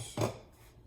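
A short clink of hot green tea being swished around in a cup with monk fruit, a single brief knock of ceramic and liquid, close and fairly quiet, alone without talk.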